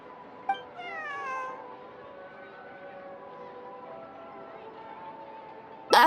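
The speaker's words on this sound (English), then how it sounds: "I believe this cat belongs to me" A cat in the video game Genshin Impact lets out a long, drawn-out wavering meow over a quiet ambient backdrop, with a brief click before it and a sharp sound at the very end.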